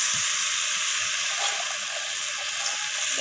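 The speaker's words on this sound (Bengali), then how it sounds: "তো এইভাবে সমস্ত কিছু আমি কষিয়ে নিচ্ছি।" Vegetables sauté with a little sugar in a pan, giving a continuous soft sizzle and hiss that stays close and fairly quiet, with no voices.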